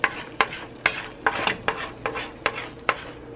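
A spoon scrapes food stuck to a frying pan during a vegan breakfast, eight or so sharp, regular strokes close up over a faint sizzle, with no voices.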